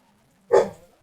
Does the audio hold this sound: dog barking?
yes